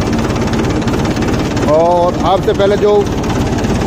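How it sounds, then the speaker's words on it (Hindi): A Mahindra 265 DI tractor's diesel engine runs slowly in a steady, close, low rhythmic chug that continues throughout while someone talks over it. "ये देखिए महिंद्रा 265 DI।"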